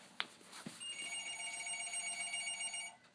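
A telephone rings downstairs during a live broadcast, a steady electronic warble held for about two seconds, moderately loud, after a couple of brief knocks and with no talking over it.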